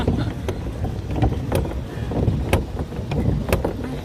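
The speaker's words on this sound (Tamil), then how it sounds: "பெடல் பண்றேன். சைக்கிள் பெடல் இல்ல, போட் பெடல்." A pedal boat is pedaled on lake water at Kodaikanal, giving a steady churning wash with periodic splashy paddle beats about once a second, mixed with wind rumble on the microphone.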